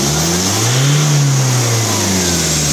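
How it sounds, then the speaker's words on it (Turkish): A Ford Transit van with a loss-of-power fault is revved to high RPM, a loud close engine roar that swells and eases back in one sustained rise with no talk. "Yüksek devirde gaz ver."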